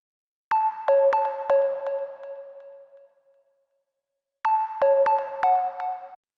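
A Serum synthesizer pluck preset recreating an Anjunabeats track, two bright melodic phrases of short, sharp, ringing notes with a gap of silence between, clean and with no voices.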